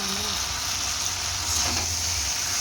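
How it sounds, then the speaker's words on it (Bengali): Potatoes fry in a pan while being stirred, making a steady, close sizzle and hiss with a faint scrape of stirring partway through. No voices are heard. "চলো আলুটা দিয়ে আবার ভাজি ভালো করে, ভাজি কষাই আর কি"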